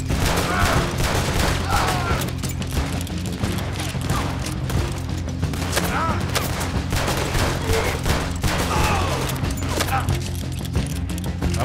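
Dense, loud gunfire during a shootout in the video game Red Dead Redemption 2, a continuous barrage of overlapping shots and game effects with voices talking throughout.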